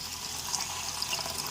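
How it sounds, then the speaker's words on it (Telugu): Water being poured into a pan of softened cooking onions makes a brief, soft, steady splashing rush, faint and close, with no talking. "ఇదిగోండి వాటర్ పోస్తున్నాను"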